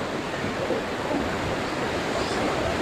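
Flood water from the hills rushes down a swollen river in a constant, broad roar that stays steady and moderately loud, with no voices over it.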